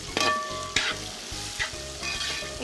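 Small shallots fry in coconut oil with a close, steady sizzling hiss, punctuated by a few sharper crackling bursts as they are stirred.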